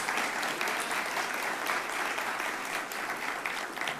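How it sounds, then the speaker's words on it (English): Steady applause from a large audience at an annual MLK celebration in DeKalb County, a continuous even wash of clapping heard at a moderate distance. "can we give another round of applause to Alaric"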